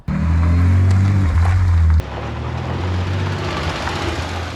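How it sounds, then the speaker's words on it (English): A car engine hums loudly close by outside a workshop, its low drone strong for two seconds before cutting abruptly to a quieter, broadband passing rush that fades gradually. "that's where the car drives past every time"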